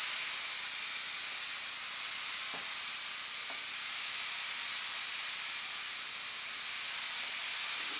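A paint spray gun fed by an old Craftsman 6HP 33-gallon compressor blows air with its valve fully open and fan wide, giving a steady, close, even hiss that runs unbroken the whole time with no talk.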